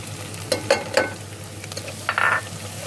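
Onion and ginger fry in a pan as turmeric goes in, giving a soft sizzle with a few brief scraping stir strokes close by and no talking.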